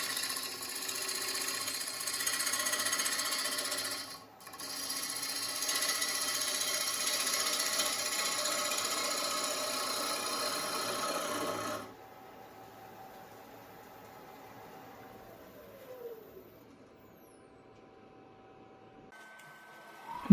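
A woodturning lathe spins a wooden bowl while a tool makes push cuts to shape it, giving a steady broadband hiss for about twelve seconds with one brief break, then a quieter hum as cutting stops.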